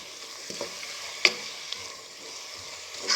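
Onion and garlic fry quietly in a pan, a soft steady sizzle broken by a couple of sharp utensil clicks against the pan.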